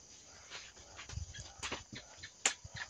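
Dogs pant softly outdoors in the morning, quick faint breathy puffs mixed with small shuffling noises and an occasional click, fairly close but quiet.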